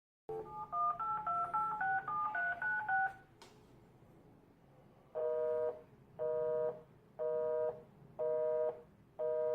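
Telephone keypad dialing: a quick run of close DTMF beeps, then a pause and five slower, evenly spaced steady tones, with no talking.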